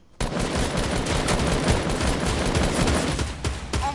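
Rapid gunfire in a first-person shooter video game, with automatic rifle bursts rattling continuously and loudly for several seconds, close and dense with no talk over it.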